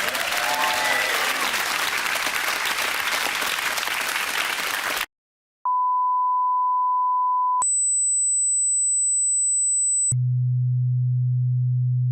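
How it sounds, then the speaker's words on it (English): A studio audience at a BBC quiz show gives several seconds of loud, sustained applause that cuts off abruptly, followed by a brief silence and then a sequence of steady electronic test tones. "Give them a nice round of applause."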